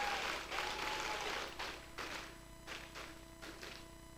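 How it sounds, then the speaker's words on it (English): Audience applause at a 2023 conference event, broadband clapping that is strongest at the start and then thins into scattered claps, moderately distant in a large hall. "Ladies and gentlemen, nice round of applause."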